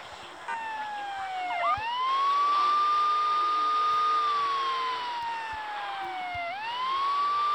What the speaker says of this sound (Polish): nawet syrenę można sobie włączyć.